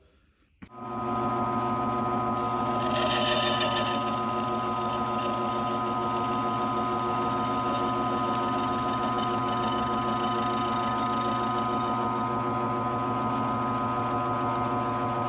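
A cutting bit mills a slot in a workpiece marked by hand for a Velcro fit. The motor makes a close, steady, humming whine that runs unbroken after a brief start, with no talk over it.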